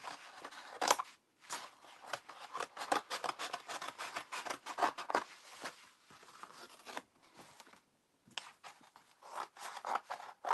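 Scissors or a blade cutting through a piece of cardboard, a run of close, dry crunching and rasping snips with brief pauses, no talk.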